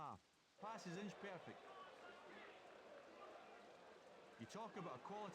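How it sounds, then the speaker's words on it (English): Steady rain patters on a surface throughout, a constant hiss close by, while someone talks over it at the start and end. "You can hear the rain, can't you?"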